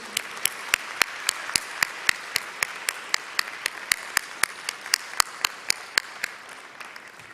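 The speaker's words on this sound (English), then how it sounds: "Let us all give them a round of applause" Applause at a commencement ceremony comes through as crisp, evenly spaced claps in a steady rhythm of roughly three per second, fading slightly toward the end with no voices over them.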